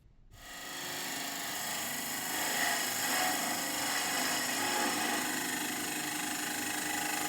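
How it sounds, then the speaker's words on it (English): A bowl gouge's lower wing shaves a spinning wooden vase on a lathe, a steady, loud, continuous scraping whir with a rough, fibrous edge that runs without a break, with no talking. "I'm blending them together with the lower wing of a bowl gouge"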